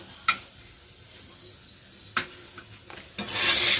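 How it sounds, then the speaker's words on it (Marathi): An aloo paratha cooks on a pan as oil is spread around it: a quiet stretch broken by a few sharp utensil clacks, then a rising sizzle of hot oil at the end. "सर्व बाजूने आपण थोडं थोडं तेल लावून घेऊ."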